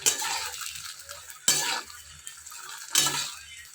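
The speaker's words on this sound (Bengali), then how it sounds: "কি সুন্দর করে বড়াটা কিন্তু ভাজা করছি, ছানার বড়াটা।" Chhana bora, cottage cheese fritters, fry in oil in a pan. A soft sizzle runs throughout, and three sharp scraping stirs of a spatula break in at regular intervals, with no voices.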